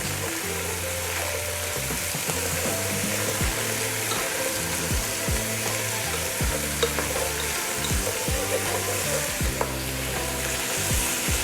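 Vegetables for pumpkin soup sizzle loudly in a pot over high heat while a utensil scrapes and stirs them in repeated strokes, steady and close.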